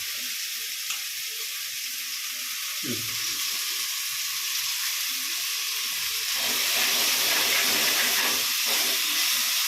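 Prawns added to a pan with tomatoes and left to cook, giving a steady close frying sizzle and hiss that swells louder toward the end, with a brief clatter early on and no talk.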